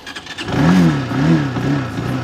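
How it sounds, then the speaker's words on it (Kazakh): A new bamX X5 motorcycle engine starts with brief clicks, then catches and revs up in a close, loud, wavering hum that settles into a steady run. "Ал мотоциклді енді оталдырып тексеріп көрейік"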